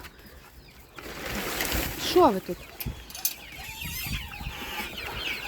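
Young chicks chirp inside a coop, with a quick cluster of high peeps standing out briefly while someone speaks nearby over faint rustling.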